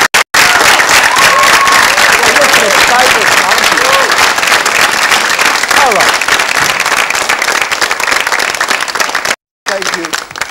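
Sustained audience applause at a live stage show, dense and steady clapping for about nine seconds with a few voices talking over it, cutting out briefly near the end.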